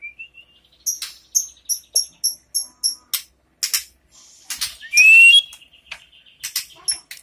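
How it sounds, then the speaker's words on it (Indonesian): White-rumped shama (Aceh murai batu) singing close by in Lambaru, Aceh Besar, with a rapid series of sharp repeated chirps and whistles, then a loud bright trill and a few scattered calls. "Ini murai semua ya. Murai Aceh."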